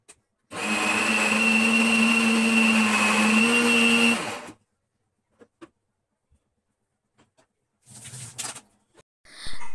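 A mixer grinder whirs loudly and steadily for about four seconds while grinding amla into a paste, then stops abruptly; a few faint knocks and rustles follow in near silence.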